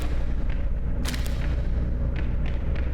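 Gunfire in the Crow Country video game: a few sharp, heavy shots spread across the clip over a steady low rumble of background game ambience.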